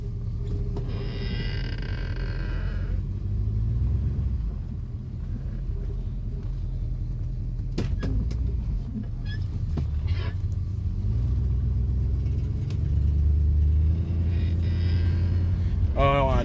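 A Mercury Monarch car rumbles steadily as it drives around the block, a low continuous engine drone with slight swells in level throughout.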